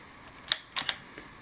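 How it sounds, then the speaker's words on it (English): A Kodak Duaflex III camera is wound to advance the film and cock the shutter, a few crisp mechanical clicks and ratchet ticks, close and quiet against near silence. "It's normally winding, advances the film and cocks the shutter."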